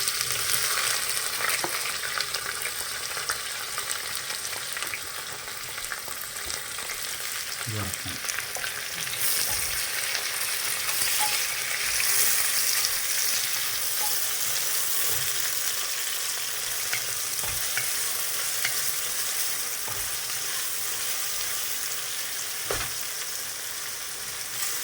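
Masala and chopped onions fry in ghee in a pan, giving a steady, even sizzle that crackles continuously for the whole stretch with no voices over it.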